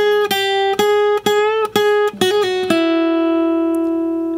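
Electric guitar playing a lead lick from a song's solo: clear sustained notes with a half-step bend, quick hammer-on and pull-off, ending on a ringing held note, played alone.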